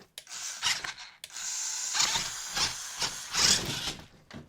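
A small DEERC DE45 1/14 RC crawler with both axles locked claws over a stainless steel screw kit, giving close scraping, rubbing and ratcheting gear whine in uneven bursts with brief pauses.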